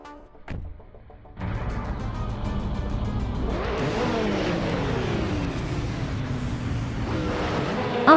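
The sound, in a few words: race cars driving in a racing video game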